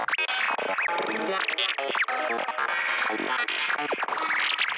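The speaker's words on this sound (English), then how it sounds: "So here we have like this kind of lead," A bright, squelchy synthesizer lead plays a busy, bending melodic line, loud and upfront with sweeping resonant tones and no voices.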